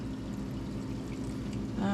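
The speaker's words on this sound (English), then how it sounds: "and look at it, pours right out." Liquid glugs out of a punctured can into a measuring cup in a home kitchen while cooking garlic chicken, a steady close pour under faint background hum, rising at the end.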